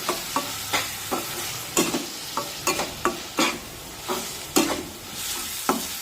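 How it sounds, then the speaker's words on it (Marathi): Finely chopped tomato sautéing with onions in a pan, with a spatula stirring and scraping in a steady rhythm of sharp clicks over a soft sizzle, close and fairly loud. "यामध्ये बारीक कापून घेतलेला टोमॅटो टाकूया आणि हा टोमॅटो सुद्धा छान मऊ होईपर्यंत शिजून घेऊया"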